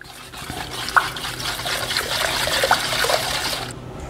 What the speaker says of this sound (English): and now we whisk it up